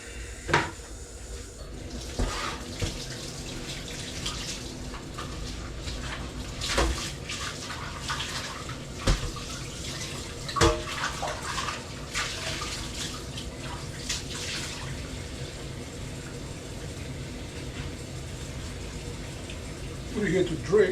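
A cooking pot being rinsed out under a running kitchen tap, steady water splashing and pouring close by for the whole stretch, with occasional clanks of the pot and a person speaking now and then.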